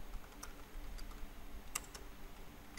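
Someone types on a computer keyboard, a few scattered, light key clicks at an uneven pace over a quiet background.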